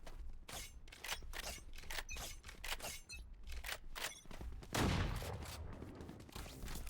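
Rapid gunfire in a shooter video game, dense volleys of sharp cracks following one another almost without pause, loud and close, with one heavier blast midway.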